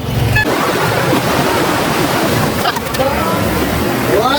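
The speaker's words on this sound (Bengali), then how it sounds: "এখন আমি চলেছি চানে সমুদ্র স্নানে চলেছি ওল্ড দীঘা বিচে" Sea surf breaking at Old Digha beach in West Bengal, a steady broad wash of waves and wind-blown noise throughout, fairly loud and continuous, with brief faint voices in the background.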